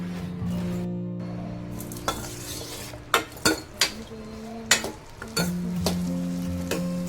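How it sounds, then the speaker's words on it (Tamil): Shallots, garlic, curry leaves, green chillies, coriander seeds, cumin and pepper sautéing in a pan, with a steady sizzle under a background hum and several sharp metallic clinks of a spoon against the pan. "இது எல்லாத்தையுமே சேர்த்து நல்லா வந்து வதக்கிக்கலாம்"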